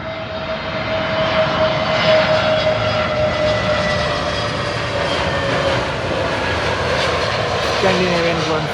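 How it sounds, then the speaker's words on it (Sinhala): A Scandinavian Airlines airliner lands at London Heathrow Airport, a loud, sustained jet engine roar with a faint whine held steady close by for several seconds. "ස්කැන්ඩිනේවියන් ගුවන් සේවයට ගුවන් යානයක්."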